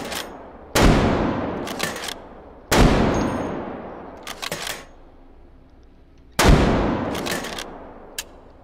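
Three booming .50 BMG rifle shots ring out in the VR shooting game H3VR, each with a long decaying tail, followed by quick metallic clacks of the bolt being worked.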